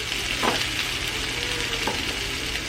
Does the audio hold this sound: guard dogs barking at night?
no